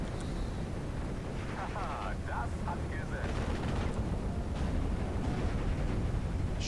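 Gunfire in the WWII strategy game Steel Division: Normandy 44, a steady rumbling din of distant shots and battle noise over the whole stretch, with faint game voices and chatter mixed in.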